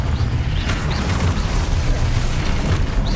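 Spell explosions and magic combat effects from the video game Hogwarts Legacy form a dense, continuous roar with repeated booming bursts. The sound is loud and fills the whole stretch without a break.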